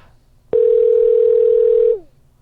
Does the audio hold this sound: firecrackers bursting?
no